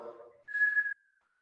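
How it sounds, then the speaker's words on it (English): One thin, clear whistle of breath blown out through pursed lips during a yoga breathing exercise, lasting about half a second after a soft exhale, quiet and close. "maybe a whistle happens"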